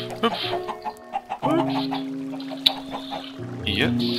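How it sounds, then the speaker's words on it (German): Chickens in the Minecraft video game, a few short clucks in the opening seconds, then someone talking over steady game sounds with more faint clucks near the end. "noch schnell die Hühner füttern"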